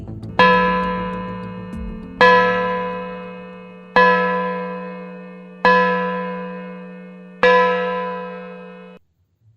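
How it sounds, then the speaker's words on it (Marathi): A clock-tower bell struck five times at steady intervals, each stroke ringing out and decaying slowly before the next, with a low hum beneath. "त्याने घंटा वाजवायला सुरुवात केली"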